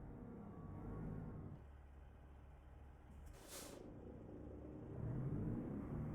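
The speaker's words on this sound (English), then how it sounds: "I do love the sound of this truck." A truck engine in American Truck Simulator rumbles low and steady, with a brief hiss of air partway through and the engine swelling louder toward the end.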